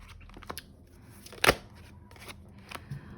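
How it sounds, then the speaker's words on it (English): Tarot cards drawn and handled during a friendship reading, soft papery shuffles and slides with one sharper flick, close and quiet, no talking. "let me just grab a few more cards"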